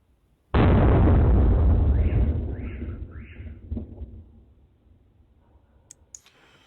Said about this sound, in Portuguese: dá para ouvir a chegada do míssil ou drone ucraniano lá em Tula